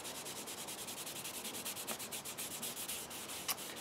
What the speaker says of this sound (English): just take this cloth and just very sort of quickly just buff out the excess of this beeswax